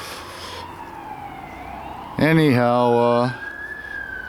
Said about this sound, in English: There's more sirens going on here than I don't know what.